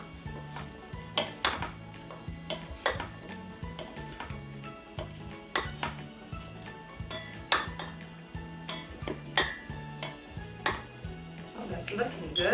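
A utensil stirs chicken salad in a bowl, making a run of regular clinks and taps at a fairly steady rhythm, close up, over a soft continuous background.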